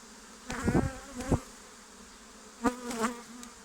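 Honeybees buzz close by in short bursts during honey harvesting, two clusters of droning hum separated by a brief quiet gap.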